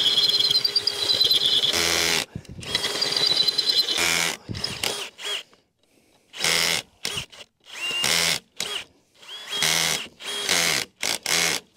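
Cordless drill boring bigger holes into wooden framing for carriage bolts on a mini barn build, heard in repeated close, loud bursts of whirring with short pauses between runs, no talking.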